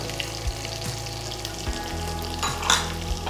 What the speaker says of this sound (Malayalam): വെളുത്തുള്ളി ഇടാം നമുക്ക്. കൂടെ ഇഞ്ചിയും ഇടാം.